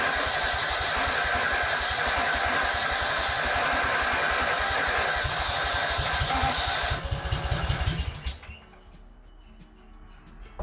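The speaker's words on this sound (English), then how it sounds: "let's see if this thing will prime itself, get fuel into the carburetor, and start up and run" A Yazoo Kees ZT Max 42-inch commercial zero-turn mower with a dry carburetor is cranked by its starter in a steady, loud, rapid chug for about seven seconds. The engine then catches briefly before sputtering down into a quieter, rough idle.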